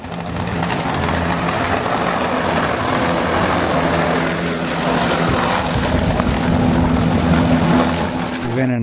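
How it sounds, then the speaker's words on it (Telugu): Loud, steady helicopter engine drone with a heavy rotor throb at a Kedarnath helipad during boarding fills the whole stretch, close by and constant, no voices. "ఇవన్నీ మేము ఎక్కబోయే హెలికాప్టర్స్"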